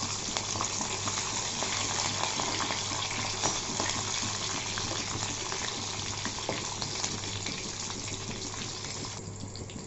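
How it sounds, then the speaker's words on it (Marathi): Mustard seeds and green chillies crackling and sizzling in hot oil for a dhokla tempering, a dense, steady, close frying hiss with constant tiny pops and no voices. "तर आपली मोहरी चांगली तडतडलेली आहे।"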